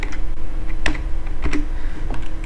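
Close, loud clicking of computer keys being typed in short uneven bursts, a few sharper taps standing out, with no talk over it.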